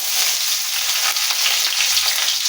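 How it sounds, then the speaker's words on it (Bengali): Nigella seeds, panch phoron and chopped onion dropped into a hot kadai, hissing in a loud, steady, continuous sizzle close up. "এই কড়াতে আমি দিয়ে দিলাম কালো জিরে আর পাঁচফোড়ন আর পেঁয়াজ কুচি"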